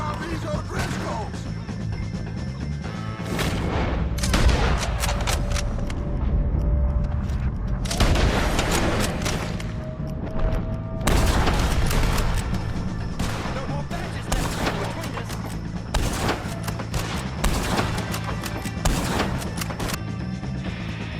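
Gunfire crackles through a Red Dead Redemption 2 shootout against O'Driscolls, with dense bursts of rifle and revolver shots, booming reports and ricochets layered over a continuous rumble, loud and sustained across the whole span.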